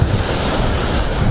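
Stormy Azov Sea surf and strong wind on a beach, a loud, continuous roar of breaking waves with heavy wind buffeting the microphone.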